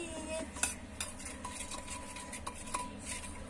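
Cutlery stirring a food mixture dressed with olive oil in a home kitchen, scattered light clinks and scrapes of a utensil against a bowl at a steady close distance, with no talking.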